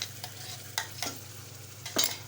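Ground masala paste for Malvani-style mutton hits a hot pan and sizzles, with several short scraping bursts of stirring over a low, steady fry.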